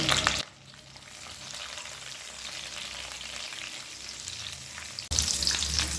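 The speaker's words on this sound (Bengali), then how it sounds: "গ্যাসটাকে এবার লো ফ্লেমে রেখে 2 থেকে 3 মিনিট ভেজে নেব" Cashews and raisins frying in ghee over a low flame give a soft, steady sizzle close by, framed by brief louder bursts of crackle at the start and end and no talk.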